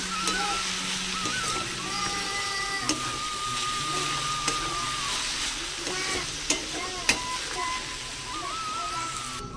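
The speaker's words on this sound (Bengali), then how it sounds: "মশলা দিয়ে কিছুটা নাড়িয়ে দেবো, নাড়িয়ে দিয়ে নামিয়ে নেব।" Cabbage and prawns with spices stirred in a hot pan, a constant bright sizzle with repeated spatula scrapes and knocks against the pan, close and fairly loud.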